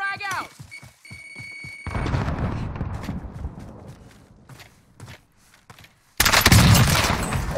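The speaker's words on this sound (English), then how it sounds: "They're getting shot from the hill as well." Automatic gunfire in Call of Duty Warzone with an MP7 loadout rattles in scattered bursts and single cracks, mixed with footsteps, under steady in-game voice callouts, ending in a loud close burst.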